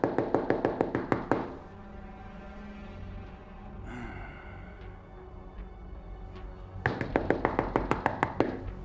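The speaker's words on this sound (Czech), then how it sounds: "Slyšela jsem prvních 13 zaklepání." Rapid series of sharp knocks on a door, one burst of about a dozen hits, then a quieter pause with faint rustling, then another quick run of close, loud knocks.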